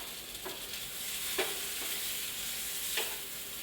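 Food stirred and frying in oil in a home kitchen pan, a steady soft sizzle with a few light scrapes of the spoon at intervals, close and alone without talk.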